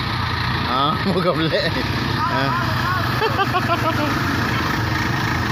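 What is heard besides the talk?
odd car engine running in flood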